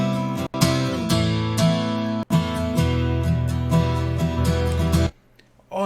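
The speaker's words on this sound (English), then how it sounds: "So in this case, I added a kilohertz bit crusher" Guitar chords run through a 1 kHz bit crusher distortion effect in FL Studio ring out loud and sustained, with two brief dropouts, before cutting off near the end.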